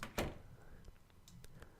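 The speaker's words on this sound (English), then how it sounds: "The door slammed behind the camp leader" A door slams shut in the visual novel game Everlasting Summer, one short muffled thud at a quiet level, followed by a few faint light knocks.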